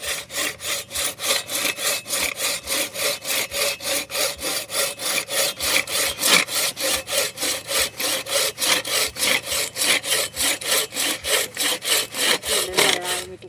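A hand saw cuts through wood with a steady, fast back-and-forth rasp, each stroke sounding clearly and evenly, close and loud for the whole stretch with no talking.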